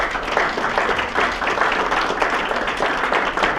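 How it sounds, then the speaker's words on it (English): Audience applause at the close of an evening Q&A event on Middle East politics, a steady dense patter of many hands clapping throughout, fairly loud and close, with no talk over it. "I want to do a round of applause."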